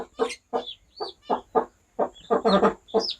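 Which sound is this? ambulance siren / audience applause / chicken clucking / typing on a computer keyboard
chicken clucking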